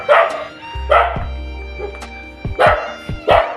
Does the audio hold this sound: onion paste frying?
no